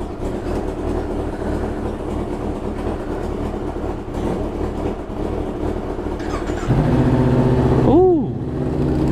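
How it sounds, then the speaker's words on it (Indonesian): Two motorcycles idle side by side while warming up, a steady close rumble that grows louder and fuller near the end, with a short rising and falling engine note just after. "Dua motor ini lagi gua panasin guys."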